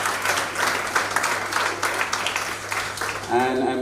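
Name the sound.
audience applause for performing children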